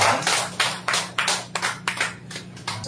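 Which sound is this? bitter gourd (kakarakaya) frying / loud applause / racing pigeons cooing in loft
loud applause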